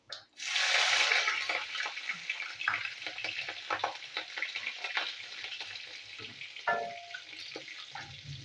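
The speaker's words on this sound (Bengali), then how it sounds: "ওই তেলের মধ্যে কালো জিরের ফোড়ন দেবো, দিয়ে দেবো কাঁচা লঙ্কা" Black cumin seeds and green chillies hit hot oil with a sudden loud burst of sizzling that eases into a steady, crackling fry, with a light clatter near the end.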